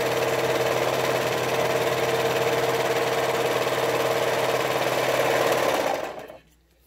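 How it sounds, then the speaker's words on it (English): A serger overlocker stitches along a fabric edge for a homemade face mask with a fast, steady mechanical whir up close. The sound runs evenly and then winds down and stops near the end. "Alright, so I'm going to serge this edge."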